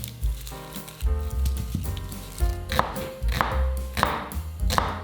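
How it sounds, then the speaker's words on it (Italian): A knife thunks rhythmically through golden onions on a board, cutting them into thin strips, with repeated firm chops and faint ringing clinks close by, no talk. "Iniziamo tagliando 1 chilo di cipolle dorate."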